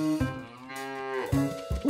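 Cartoon cows moo in a field, several long, loud, drawn-out lowing calls one after another, close and clear with no talk.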